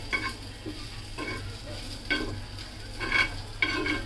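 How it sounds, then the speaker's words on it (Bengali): Spices with ginger-garlic paste frying in white soybean oil, a steady close sizzle broken by several bursts of stirring scrapes against the pan, with no talk. "মানে একদিকে তেল দেওয়া হচ্ছে আর আরেকদিকে ওটা ভাজা হচ্ছে"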